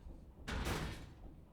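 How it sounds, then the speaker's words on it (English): Several doors open at once in the video game AI: The Somnium Files – nirvanA Initiative, a short sliding whoosh with a soft thud that swells and fades over about a second, with no talk over it. "I guess that was the sound of all the doors opening."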